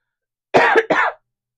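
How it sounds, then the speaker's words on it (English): A single human cough in two quick bursts, close and loud against silence. "Excuse me, I'm going to cough."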